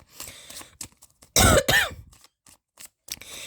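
A sharp burst of coughing, two harsh hacks close together, with a few softer throaty sounds before and after.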